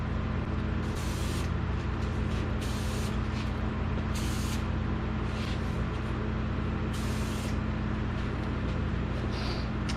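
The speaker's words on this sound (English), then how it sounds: "spray another light coat on there" Spray gun applying paint under the hood of a 1952 Chevrolet Styleline Deluxe, heard as several short hissing bursts over a steady low hum from a compressor or motor, fairly close, with no talking.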